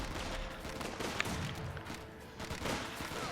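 Mortar and gunfire in Company of Heroes 2: a dense, continuous battle din of scattered rifle shots and muffled blasts, moderately loud throughout.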